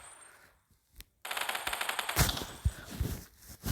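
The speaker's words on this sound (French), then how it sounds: "on a la mitrailleuse M249" An M249 machine gun fires on automatic in the Minecraft TACZ weapons mod: a rapid, loud burst of rattling shots, a brief pause, then further sharp bursts.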